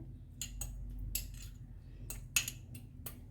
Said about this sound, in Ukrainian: Тепер чесник беремо і отак перечавлюю вилкою в пюре.